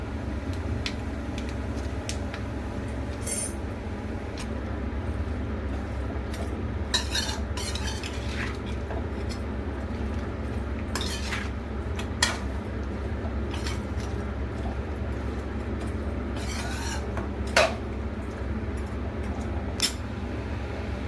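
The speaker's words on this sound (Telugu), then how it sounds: "ఇప్పుడు ముందుగా పోపు దినుసు వేసుకుందాం." Tempering spices dropped into hot oil and stirred in a pan for pepper chicken, a low steady sizzle with scattered sharp scrapes and clicks of the spoon against the pan.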